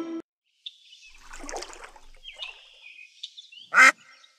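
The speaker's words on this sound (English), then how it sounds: "Quack. Quack, quack." A duck quacks in a sparse run of short, nasal calls with gaps of silence between them, ending in one loud, close quack.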